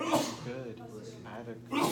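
A quick sneeze bursts out at the start, with another sharp exhalation near the end, between stretches of a person speaking in a classroom-style exchange.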